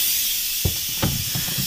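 Steam hisses out of an Instant Pot pressure release, a loud continuous bright hiss that runs unbroken with a few faint knocks beneath it.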